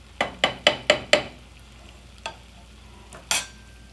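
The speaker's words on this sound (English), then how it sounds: "Give our vegetables another stir." Vegetables stirred in a hot cooking pan for polenta with goat cheese: five quick rhythmic scraping clatters over a steady sizzle, then two isolated louder scrapes, close and with no talking.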